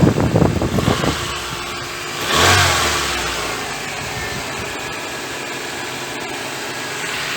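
A car engine runs smoothly and fairly quietly, with a brief rev after a rustling start, then settling back into a steady, low idle hum.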